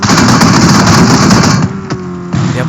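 Rapid, dense gunfire from the mobile battle royale game PUBG Mobile rattles loudly and continuously, then drops away to a quieter engine hum with a sharp crack or two near the end.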